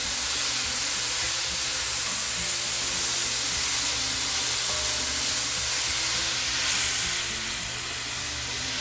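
Food sizzles loudly in a Lodge Cook It All cast iron pan used as a wok, with honey just added, a dense continuous close hiss and crackle as it is tossed, easing slightly near the end.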